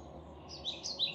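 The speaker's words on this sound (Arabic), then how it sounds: "وياه صوت العصافير شوي" Recorded birdsong chirps played from an Anker sleep-sound speaker, faint high tweets layered over a soft steady fan-like hiss, quiet and short.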